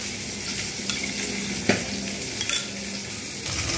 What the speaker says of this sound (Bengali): এতে এবার একটু কালো জিরে ফোড়নটা দিয়ে দিলাম যাতে টেস্ট হয়